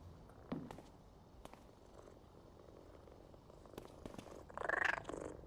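A petted cat purrs in Powerwash Simulator 2, a soft low rumbling purr throughout with a few light clicks and a brief louder mew-like sound near the end.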